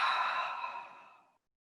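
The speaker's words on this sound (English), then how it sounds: "Let all the air out of your abdomen." A single deep exhale during a yoga breathing exercise, a soft, breathy sigh that starts full and trails off gradually over about a second and a half, heard close and alone.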